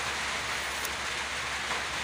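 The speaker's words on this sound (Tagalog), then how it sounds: "At maulan po din." Steady rain falls in a continuous even hiss with no voices.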